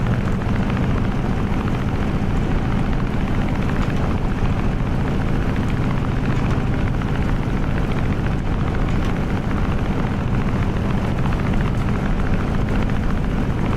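Simulated F6F Hellcat radial piston engine in Microsoft Flight Simulator 2020, throttled up with flaps at second stage, giving a loud, dense, steady rumbling drone that holds constant throughout without talk.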